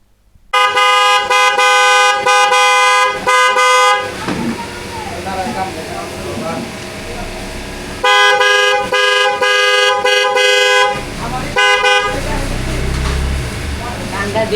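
Loud, blaring hydraulic horn on a GPX Demon 165 GR motorcycle honks close by, two long sustained blasts with short bursts between, separated by a stretch of engine and background noise.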